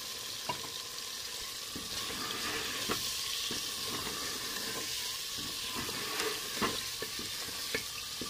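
Chicken masala with freshly added chopped tomatoes cooking in a pan, giving a steady close sizzle and hiss with occasional stirring scrapes and clinks throughout, no talking.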